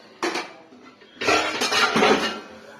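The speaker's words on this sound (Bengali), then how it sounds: "আমি থালা বাটিটা ধুয়ে নিচ্ছি" Steel plates and bowls clatter and clink together while being washed, a short burst of clanking followed by a longer, louder run of rattling dishes, close by.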